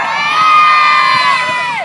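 A crowd of schoolchildren at a slime challenge event cheers and shouts loudly in one sustained, high-pitched burst that fades out at the end.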